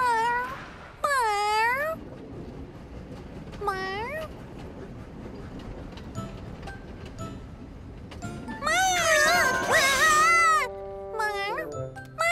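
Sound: cartoon cat meowing

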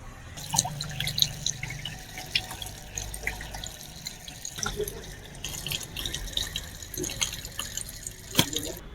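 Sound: washing pomfret fish under running water

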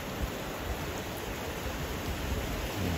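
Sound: rain falling in Dubai

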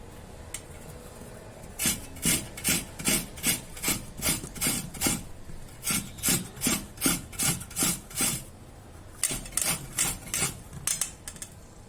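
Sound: raw mango being grated on a medium-hole grater

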